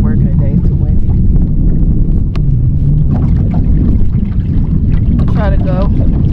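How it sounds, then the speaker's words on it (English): Strong gusty wind buffets the microphone in a loud, constant roar while bass fishing with a spincast reel, with a voice faintly audible through the noise. "It's too windy."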